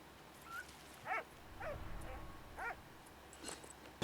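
A puppy in the Valiant Hearts video game gives several short whimpering yips at intervals, close and fairly clear against a quiet background.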